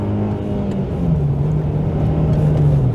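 Honda Accord CL9 engine revving after an ECU reflash, its steady drone shifting in pitch as the revs hang and slowly fall; loud and close, with no talking.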